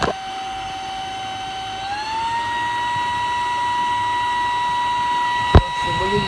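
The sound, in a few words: Laresar Elite 4 vacuum motor running at medium speed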